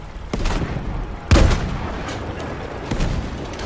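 Gunfire in the video game Battlefield V, a steady stream of close shots topped by one heavy booming blast near the middle, with no talk over it.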